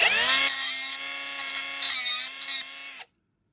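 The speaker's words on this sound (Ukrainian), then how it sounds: "з цим нам допоможе розібратися маленька одна штуковинка, яка називається болгарка" An angle grinder whines loudly and steadily at high speed cutting silver-plated copper, its pitch dipping as it bites, then cuts off abruptly.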